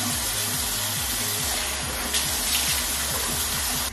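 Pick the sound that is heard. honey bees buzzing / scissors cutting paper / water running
water running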